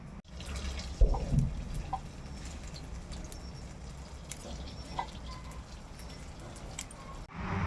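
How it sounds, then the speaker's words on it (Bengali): Running and splashing water as freshly picked young dheki fern greens are rinsed by hand, starting with a few sloshing bursts, then settling into a steady trickle with occasional drips. "ঢেঁকি শাকটা ধুয়ে নিব ভালো করে।"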